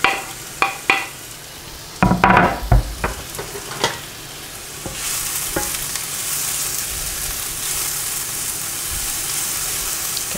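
Onions tossed into hot oil in a frying pan, with a few stirring knocks and scrapes at first, then a steady, fairly loud sizzle settling in and holding close by.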